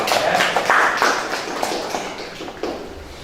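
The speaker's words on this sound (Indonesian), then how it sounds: "tepuk tangan untuk Nersia ya" Classroom applause for a student's recording during a teacher training session, a dense patter of hand claps filling a few seconds at moderate loudness.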